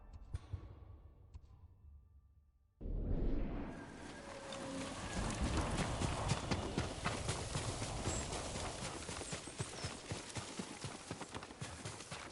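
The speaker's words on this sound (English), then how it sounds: "You're a good horse, Nobu." In Ghost of Tsushima, a horse's hooves clip-clop at a steady trot, starting abruptly after a quieter opening and continuing as a dense, moderately loud rhythm against ambient game noise.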